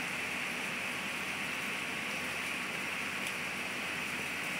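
Heavy tropical rain falls in Thailand, a faint, even hiss that holds steady throughout with no speech.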